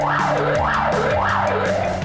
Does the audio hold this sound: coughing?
no